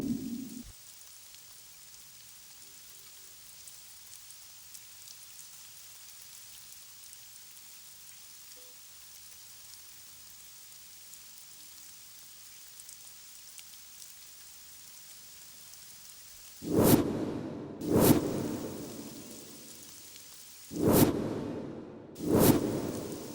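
Steady rain falls throughout, a soft even patter, then four loud rushing bursts like nearby thunder claps break in over the last several seconds; no one speaks.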